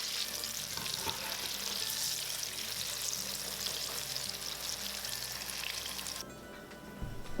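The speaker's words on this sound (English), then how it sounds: "The double frying method makes the chicken crispier and less oily than the typical fried chicken." Steady, dense sizzling of Taiwanese popcorn chicken double frying in hot oil, loud and close, with occasional stirring clinks before it quiets slightly at the end.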